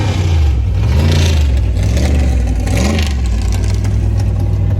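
Drag race car on a 300-foot test pass, roaring loud and close with deep rumbling harmonics and wavering pitch as it accelerates, throughout the whole stretch.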